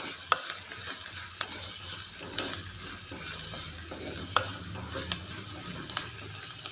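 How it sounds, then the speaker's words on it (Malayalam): Onions sautéing in a pan with curry leaves, crushed ginger and garlic, a quiet continuous sizzle broken by occasional sharp spoon scrapes and taps, close and fairly soft with no voices. "ഇതുപോലെ നന്നായിട്ട് സവാള വഴറ്റുക"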